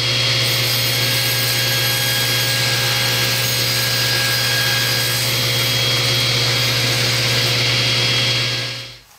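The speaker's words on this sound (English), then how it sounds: "I'm going to run this through and just square off the one side." A table saw squares off one edge of an ABS plastic sheet, its motor drone and steady cutting whine holding loud and constant for about nine seconds before spinning down at the end.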